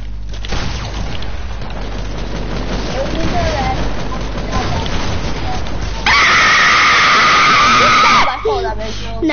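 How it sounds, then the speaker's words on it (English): A boy lets out a loud, sustained scream while playing a video game. It erupts near the end after a stretch of busy game sounds and talking. "I just screamed as loud as I can"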